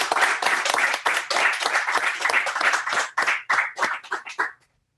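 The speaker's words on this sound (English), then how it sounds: "let's give the poets another round of applause" An audience at a hybrid poetry reading gives the poets a round of applause, brisk and fairly close, thinning into a few scattered claps before stopping abruptly.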